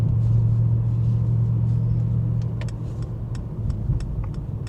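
A low, steady engine rumble from a Mercedes-AMG sports car exhaust idles close by, with a tonal drone that drops away midway while faint clicks sound over the continuing hum.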